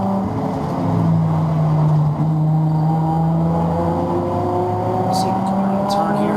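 Race cars come around a turn with a loud sustained engine drone that shifts in pitch as they pass, while a person talks over the noise.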